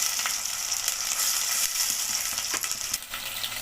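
Tomato pieces sizzle in a hot frying pan for bagara rice, a steady, close crackling hiss with small pops throughout, nobody speaking.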